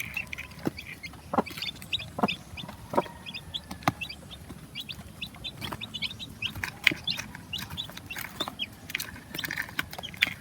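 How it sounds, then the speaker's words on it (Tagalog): A hen with ten newly hatched chicks: a constant scatter of high, quick peeps from the chicks over low background noise, with occasional soft clucks, close and steady throughout. "Meron akong 10 chicks."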